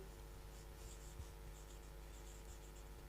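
Very faint pen strokes scratching across paper during a maths lesson, short intermittent bursts of writing over a quiet room hum.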